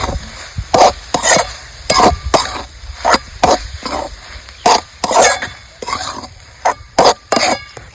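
Peanuts and ridge gourd are stir-fried in a pan, a spatula scraping and knocking against the metal in quick irregular strokes over a low sizzle, close and fairly loud with no talking.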